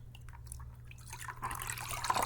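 An absorbent paper towel is dipped into water, giving soft liquid splashes and drips that grow louder toward the end above a low background hum.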